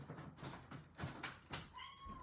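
A cat meows several times in short bursts, fairly close, followed by a thin high whistling tone near the end.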